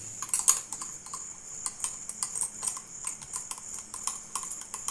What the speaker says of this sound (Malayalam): ഞാൻ ഇത് രണ്ടും കൂടി നന്നായി മിക്സ് ചെയ്യുന്നുണ്ട്